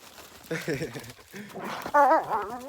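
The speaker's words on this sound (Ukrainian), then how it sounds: "Сьогодні я з собаками." Dogs whining and yelping in short bursts, close by, mixed with a voice speaking outdoors.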